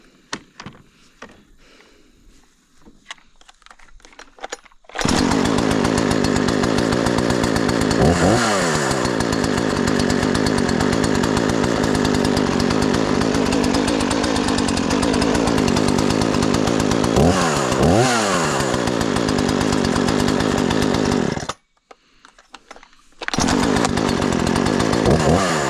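A Husqvarna 240 chainsaw is started and runs loud and close at a steady high idle, with a few revving swells, a brief cutout near the end, then it fires up again.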